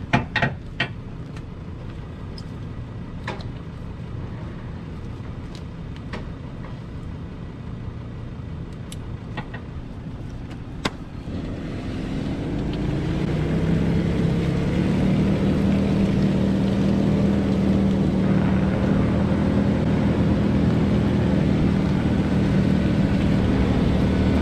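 A 4WD vehicle on a muddy track at Gordon Country & Janowen Hills 4WD Park in Queensland: a quiet stretch with scattered clicks gives way to a rising engine drone that settles into a loud, sustained strain as it bogs down.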